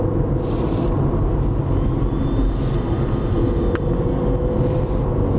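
A car drives a winding, traffic-free stretch of Highway 40 near Lillooet, British Columbia, giving a steady, close engine and road rumble with wind noise throughout and one brief faint click.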